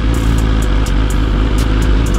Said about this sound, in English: We got both bikes out today.